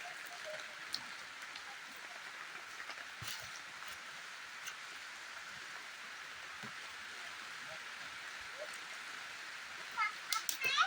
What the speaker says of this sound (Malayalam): മഴ പെയ്യാൻ തുടങ്ങി മഴ പെയ്യാൻ തുടങ്ങി